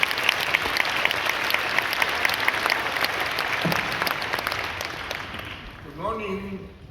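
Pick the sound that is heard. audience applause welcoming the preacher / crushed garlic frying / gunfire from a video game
audience applause welcoming the preacher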